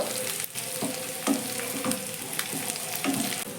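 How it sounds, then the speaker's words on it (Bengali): Snack pieces frying with onions in a pan, a continuous close sizzle with rhythmic stirring scrapes every half second or so, no voices. "এই টিফিনগুলোকেও আমি এক থেকে দেড় মিনিটের মতো এই পেঁয়াজের সঙ্গে ভেজে নেব"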